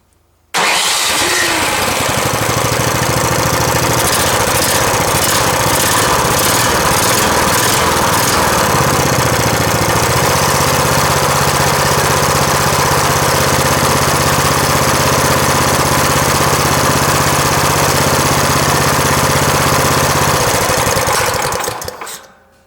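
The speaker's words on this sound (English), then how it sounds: "now this work has been done and my snowplower works well" A repaired snow blower engine starts and then runs loud and steady close by, with a continuous mechanical roar and a brief rough patch early on before it settles into an even run.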